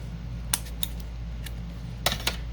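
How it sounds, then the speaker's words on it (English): Scissors trim the edge of a paper card at a crafting table, giving a few crisp, quiet snips in two small clusters against a steady low background hum. "we are just going to trim the edge"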